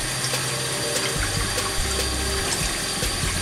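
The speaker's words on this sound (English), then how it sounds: "Take my brush pad and rub it around in circular motions." A makeup brush rubbed in circles on a wet brush-cleaning pad, giving a steady, close, wet swishing wash with faint squelches throughout, loud and continuous with no pauses.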